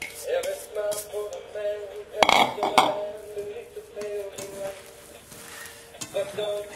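Wonton stuffing mixed in a mixing bowl with a utensil, producing repeated close clinks and scrapes against the bowl, a couple of louder knocks, and low speech underneath.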